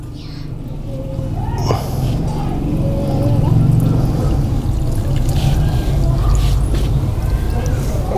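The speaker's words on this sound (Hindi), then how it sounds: "इस तरीके से आप पानी देंगे" Water poured onto a dry potted lemon plant, a steady close splashing and trickling flow that runs continuously, with faint voices in the background.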